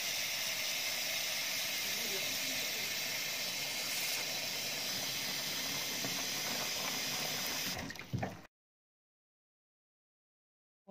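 Almonds sit in a pot of water as it heats toward a boil, a steady bright hiss and bubbling simmer that holds evenly for several seconds, then ends abruptly in silence.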